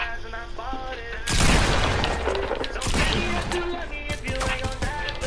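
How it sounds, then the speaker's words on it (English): A loud burst of gunfire in the Fortnite video game, with a shotgun blast among dense booming shots and mechanical clatter that continues over several seconds, under a steady game soundtrack. "I'm gonna hit you with the shotgun again"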